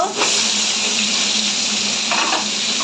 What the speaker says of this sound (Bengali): দেখো এইবার দেখো আমি বেগুনটা তেলের মধ্যে দিয়ে দেব।